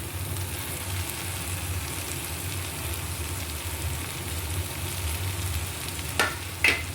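Okra hits spiced masala sizzling in hot ghee, giving a steady, dense frying hiss throughout, with two quick utensil clinks near the end.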